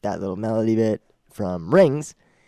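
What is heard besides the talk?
No distinct noise like a dog, phone or traffic.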